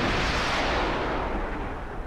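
A VLS missile launch in a submarine video game, with a loud continuous roaring rush that fills the whole moment and stays steady without a break.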